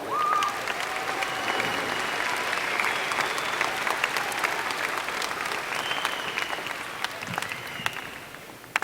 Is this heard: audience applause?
yes